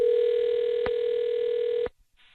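A phone call rings through on the line as a steady, clear tone lasting nearly two seconds, then cuts off abruptly before a faint higher blip.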